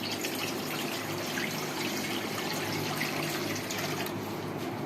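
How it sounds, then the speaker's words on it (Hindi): Water is poured into an open pan of soaked rice while making thandai kheer. It makes a continuous rushing, splashing flow that lasts the whole time, close and moderately loud, with no speech. "थोड़े पानी डालेंगे इसमें।"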